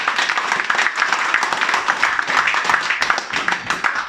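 An audience claps steadily for several seconds at a leadership training session, a dense, even patter of many hands with faint voices mixed underneath.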